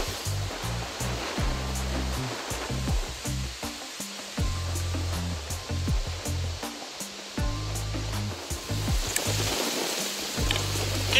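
Stormy wind roars steadily across open water while waves slosh and break close by in a continuous rushing wash, with gusts buffeting throughout and no voices.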